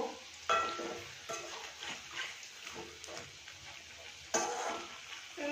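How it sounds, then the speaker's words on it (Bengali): Semolina pakoras fry in oil with a soft, continuous sizzle and bubbling, interrupted by occasional light stirring knocks and a louder crackle near the end; fairly quiet overall. "বাকিটা আমি এরকম করে ভেজে নেবো"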